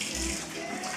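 Hands are rinsed under running tap water while preparing BBQ ribs, a short steady splash and gush heard close up.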